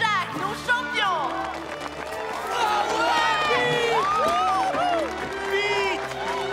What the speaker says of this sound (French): Et je vous demande d'applaudir chaleureusement Pete et Jack, nos champions!